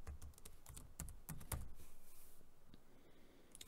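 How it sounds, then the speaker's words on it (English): Quick bursts of keystrokes on a computer keyboard, a run of fast, close clicks with short pauses, quiet and alone without speech. "all we have to do is press the tab key, backspace, and I'm going to type it out as 3D text"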